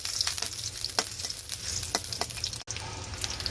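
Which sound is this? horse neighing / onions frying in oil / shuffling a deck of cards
onions frying in oil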